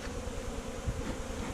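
Honey bees buzzing inside an open beehive, a dense, close, continuous drone with no pauses and no talk.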